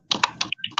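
Quick keystrokes on a computer keyboard, about five or six close, crisp clicks in an uneven burst, with no voices.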